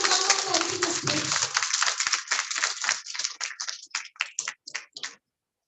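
An audience applauds students on stage. Dense clapping starts loud and thins out into scattered, fading claps before stopping.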